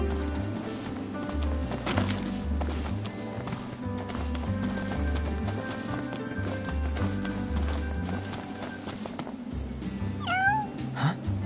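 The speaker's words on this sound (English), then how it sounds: "Hey, you're the cat we saw in Galden." A small stray cat in the Final Fantasy XV game world gives a couple of short, rising meows near the end, sitting above steady game music and ambient sound.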